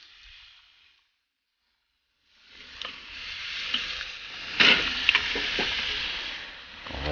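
Baby back ribs sizzling in a pan just after being flipped, a quiet hiss that drops to near silence, then swells into a steady, strong sizzle with a few sharp crackles and pops.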